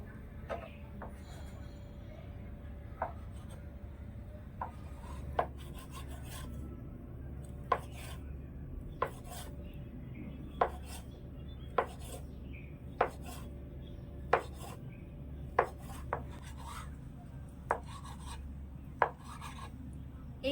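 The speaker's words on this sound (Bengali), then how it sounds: "এবারে সাইড থেকে আমি ছুরি দিয়ে একটু ছোট ছোট করে কেটে নেবো" A knife slices rolled flour dough into small pieces for crisp Bihari khaja, giving regularly spaced crisp taps against the board, about one each second, over a low steady background.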